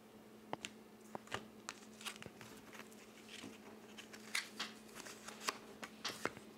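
Tarot cards are shuffled up close: soft riffles and crisp taps and snaps come in irregular clusters, quiet, with no talking.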